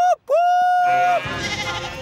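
Young farm sheep bleat in a cartoon scene with a steam engine nearby, two wavering calls, the second long and steady, followed by a rumbling mechanical clatter.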